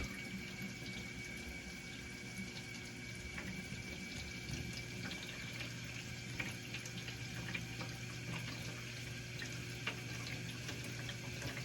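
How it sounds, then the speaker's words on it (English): Water spills steadily from a leaking pump shaft seal on a GE dishwasher, a continuous splashing hiss layered over a constant motor hum, close and unbroken with no speech. "It spins and really pouring out down there."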